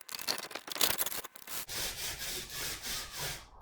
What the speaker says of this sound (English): Let's see how that does for the hand sanding